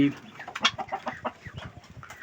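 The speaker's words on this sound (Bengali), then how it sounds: "এই যে মুরগি আমার, এই যে মোরগ" Backyard hens and a rooster cluck in quick, uneven bursts at close range, with a brief louder squawk early on and faint talk in the background.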